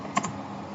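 A computer keyboard being used to enter a command, with two or three quick, faint keystrokes close by over a quiet background hum.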